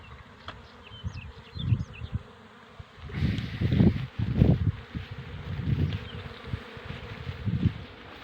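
Honeybees buzzing around the hives of an apiary in a late spring, working rapeseed blossom, a continuous swarm hum with individual bees swelling loudly as they fly close past, outdoors with faint bird calls in the distance.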